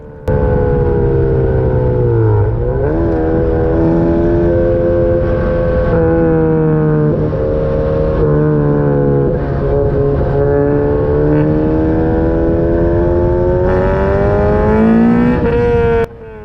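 Ariel Atom sports car on a race track, its engine droning loud and steady in a high gear with small pitch rises and dips as it pulls, continuous throughout with no talk.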